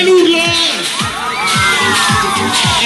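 A loud, close crowd shouts and cheers together at a music video shoot on a Tagadà fairground ride in Uggiano La Chiesa, with repeated rhythmic thumps underneath the voices.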